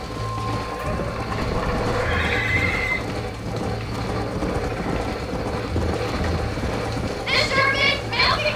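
A horse in the video game Red Dead Redemption whinnies twice, with hoofbeats clip-clopping beneath a steady low game hum, all heard at close range.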